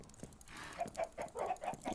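A chicken clucking in the Farm Hunt video game, a run of short repeated clucks in quick rhythm, moderately close and fairly quiet, with no speech over it.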